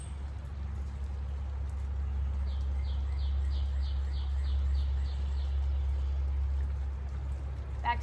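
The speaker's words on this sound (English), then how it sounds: "Can you hear all the birds chirping?" Birds chirp outdoors in a quiet wet setting, a rhythmic series of about a dozen short high chirps repeating in the distance over a steady low rumble.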